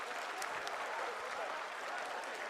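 A large audience applauding at the ISRO mission control event right after the Chandrayaan-3 Vikram lander's soft landing on the moon. The clapping is dense, steady and sustained throughout, with no speech over it.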